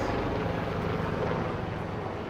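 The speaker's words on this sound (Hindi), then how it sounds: "हेलीकॉप्टर भी जा रहा है ऊपर।" Helicopter passing overhead above a busy shopping street in Bangalore, a steady loud broadband engine and rotor roar filling the whole stretch without any break or talk.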